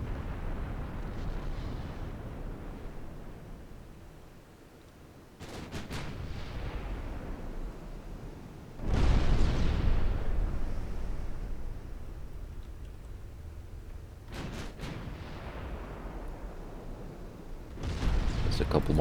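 Heavy naval gun salvos boom from warships in the Ultimate Admiral Dreadnoughts naval battle game as an enemy ship sinks, with several loud deep blasts spaced a few seconds apart, each followed by a rumbling decay over a low background.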